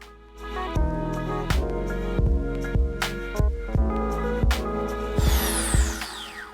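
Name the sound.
pilot drill drilling into flanged ball valve at fastest RPM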